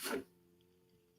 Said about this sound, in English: Try not to sneeze.